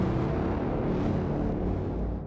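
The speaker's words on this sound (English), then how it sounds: "And then that big Braam again." A big, heavy cinematic braam hit from the Trailer Jumpstart Master library swells as a dense, low brassy drone and then slowly fades out, with no voices over it.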